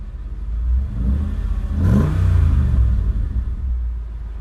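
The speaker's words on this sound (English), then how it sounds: "Let's give it a rev." A Mercedes-Benz G55 AMG engine idles with a deep rumble, then swells into one loud rev that rises and falls back to idle, heard close from inside.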